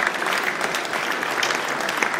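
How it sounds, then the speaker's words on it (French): A crowd at a balloon event claps steadily, dense and even throughout, with no pauses or voices standing out. "je crois qu'on peut les applaudir"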